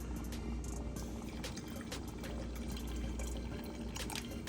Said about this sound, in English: But I'm still going to add a little bit of water.